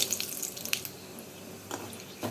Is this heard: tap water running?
yes